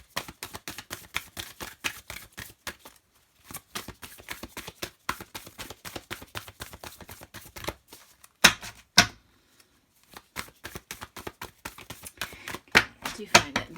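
Oracle cards with a slick coating shuffled by hand in repeated bursts of dry, crisp riffling and slapping, with short pauses and a few sharper snaps, close and fairly quiet, with a voice talking at times.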